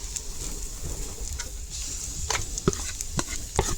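A spoon stirs flour halwa with ghee and roasted nuts in a pan, giving soft scraping and a low sizzle, broken by a few sharper knocks of the spoon against the metal near the end.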